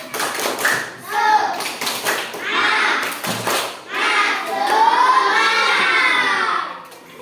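A class of primary school children performs a rhythmic spirit clapping chant, with bursts of claps mixed with loud young voices calling out together, close and busy throughout.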